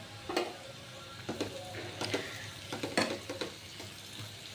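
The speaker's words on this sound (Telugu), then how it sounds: "మగ్గాక అందులోనికి సరిపడినంత పసుపు వేసుకొని మొత్తాన్ని నీట్గా కలుపుకోవాలి." Cabbage curry with turmeric is stirred in a pan, a soft bed of sizzling broken by a series of scraping strokes from the spoon, close and fairly quiet.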